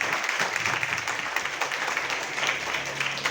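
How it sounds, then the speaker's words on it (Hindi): Loud, dense applause from an audience clapping for a team at a recognition event, steady and continuous for the whole stretch with a low hum underneath. "जोरदार तालियां मेरी टीम के लिए"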